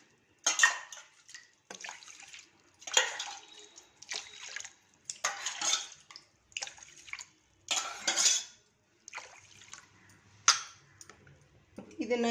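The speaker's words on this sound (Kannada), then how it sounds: "ಇದನ್ನು ಕ್ಲೀನಾಗಿ 3 ಸಲ ತೊಳ್ಕೊಳ್ಳೋಣ" Rice being washed three times in a pot, then five cups of water poured in, before going into a pressure cooker; repeated bursts of sloshing and clinking of grains, water and metal vessel, close by, with no talk.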